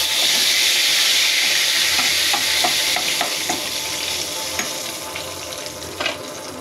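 Ground turmeric fries in a pan for a bottle gourd and shrimp curry, giving a loud steady sizzle with a hissing edge and scattered spatula scrapes that fade slightly toward the end, with no talking.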